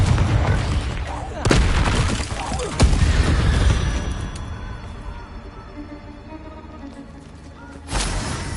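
The Confringo fire spell in Hogwarts Legacy goes off in booming blasts, with sharp explosive hits at intervals over rumbling low combat noise and fading debris.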